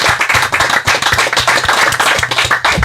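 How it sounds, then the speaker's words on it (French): An audience claps warmly for a guest singer on a Madagascan arts show, a loud, close burst of rhythmic clapping over a busy, slightly clattery background. "que je vous demande d'applaudir chaleureusement également."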